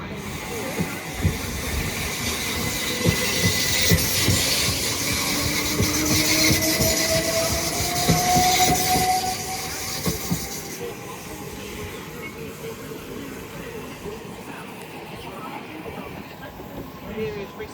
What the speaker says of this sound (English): London Victoria as we've got 377111 arriving.